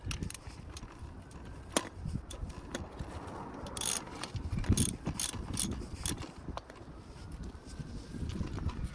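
A ratchet clicks while tightening the top mount nut on a Vauxhall Astra J rear shock absorber. The clicks are faint and irregular over a steady background of workshop noise.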